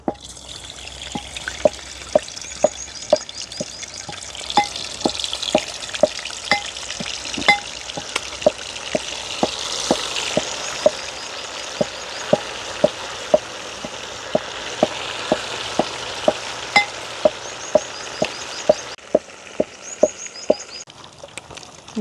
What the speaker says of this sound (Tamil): எண்ணெய் கொதிச்சுட்டு நாங்கள் உப்பும் மஞ்சளும் பிரட்டி வச்சுருக்கிற மீனை பொரிய விடுவோம்